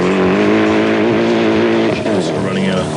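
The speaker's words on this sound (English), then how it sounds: "Dunkerton has the driving skills, but his Mitsubishi was just not quick enough." A Mitsubishi rally car races flat out on a fast South Australian stage during a 1992 Australian rally championship round, its engine a loud, steady drone throughout, with a brief dip near the end and faint talk mixed in.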